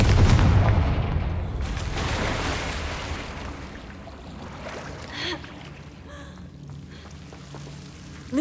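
A Confringo blasting spell goes off in Hogwarts Legacy, a heavy booming burst at the start that rumbles and fades into low crackling, with a couple of smaller thuds following later.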